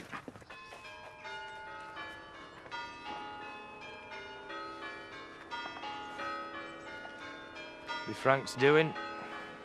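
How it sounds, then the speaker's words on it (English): Church bells peal in a steady run of overlapping, ringing tones at moderate distance, with a short burst of speech near the end. "Ringing the church bells, let the world know."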